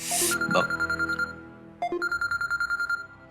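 A phone rings in two short bursts of rapid, trilling electronic tones with a gap between them, clear and moderately loud in a drama scene with no voices.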